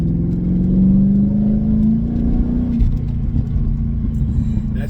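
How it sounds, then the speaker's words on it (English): Mercedes CLK 500 V8 exhaust revs up inside the cabin while driving, the engine note rising to a loud peak then settling into a steady deep rumble and road drone. "that's the exhaust. Loud. Loud"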